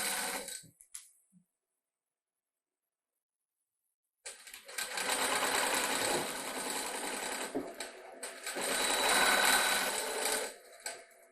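Sewing machine pre-stitching a zip pouch in two runs of fast, steady whirring stitches after a brief silence, close and fairly loud.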